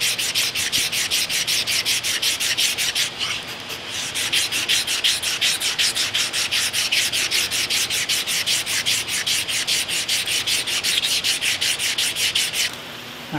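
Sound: stone rubbing on metal

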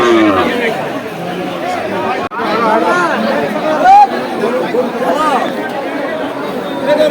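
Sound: crowd chatter at crowded Putia cattle market

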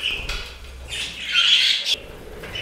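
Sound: budgerigars and finches chirping in bird room

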